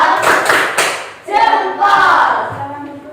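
A school class performs a thumb-clapping chant routine, with rhythmic claps and taps of hands under loud children's voices chanting together.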